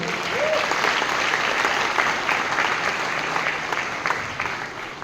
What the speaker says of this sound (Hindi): सर के लिए भी एक बार जोरदार तालियां हो।